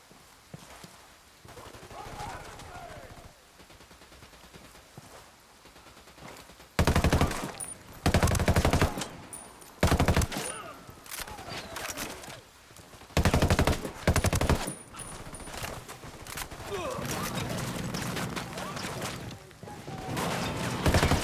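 Bursts of automatic gunfire from the video game Ghost Recon Wildlands come in loud, repeated volleys, separated by quieter stretches of game sound, with some talking.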